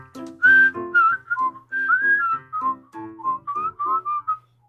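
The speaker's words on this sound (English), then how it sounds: "clean whistle. It's a high whistle too." A person whistles a quick run of clean, high-pitched notes, each short and sharply separated, sliding slightly between pitches, close and fairly loud with no talking over it.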